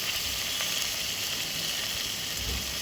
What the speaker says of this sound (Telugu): శుభ్రంగా కడుక్కున్న మటన్ అయితే మనం ఇప్పుడు గంజులోకి వేసుకొని